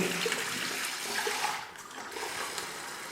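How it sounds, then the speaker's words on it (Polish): Water pours steadily into the removable reservoir tank of a Waterpik WP-100 E Ultra dental irrigator, a continuous close splashing trickle lasting a few seconds with no talking. "Naleję sobie wody."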